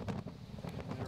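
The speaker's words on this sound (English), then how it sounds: "It's so windy you can feel the salt in the air." Strong wind buffeting the microphone on an exposed, windswept coast in southern Japan, a loud low continuous rumble with gusty surges throughout.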